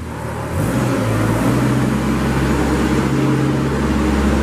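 A 2014 Moffett M55.4 truck-mounted forklift drives nearby, its engine droning steadily and loudly, rising slightly in pitch after the first half second as it pulls away, with no voices.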